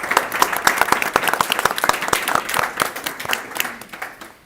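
A conference audience applauds a panel, with dense, sustained clapping from many hands close by, holding steady for several seconds before tapering off at the end.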